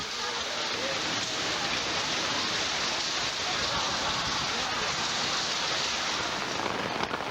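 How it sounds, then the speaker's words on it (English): Steady, dense rain falls outdoors at a concert in Moscow, a loud, even hiss of drops hitting surfaces that continues without pause. "And then it begins to rain."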